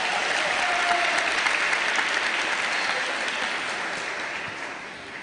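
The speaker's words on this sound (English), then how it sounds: "Let's give Mr. Jackson a round of applause" Sustained applause from a large audience at a high school graduation, dense and even, gradually tapering off toward the end.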